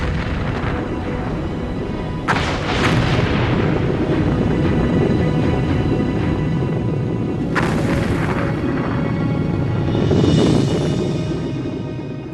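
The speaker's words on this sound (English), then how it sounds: "Just south of Iceland, fishermen report explosions." Deep rumbling booms from an undersea volcanic eruption off southern Iceland at Surtsey, a continuous heavy roar broken by two sharp blasts and a swelling surge near the end, with no voices.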